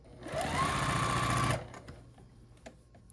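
A sewing machine stitches a small quilted Christmas stocking ornament, giving a steady close whirring run of about a second, then stopping, followed by faint handling clicks and rustle.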